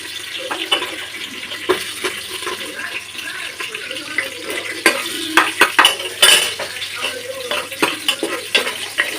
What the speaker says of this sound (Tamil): இந்த மாதிரி பச்சை மிளகாயை நல்லா வதக்கிடணும்.